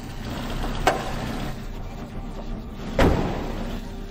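Old barn-find Citroen AX engine running steadily after a restart, a low rough hum with two sharp knocks or clunks standing out over it.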